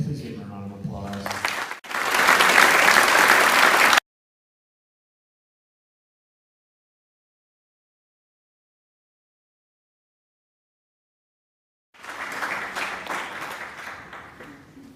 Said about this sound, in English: everybody that came up here to speak today, please give them a round of applause